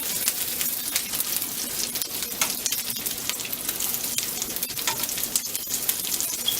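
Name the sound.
meatballs sizzling as they are added to spaghetti sauce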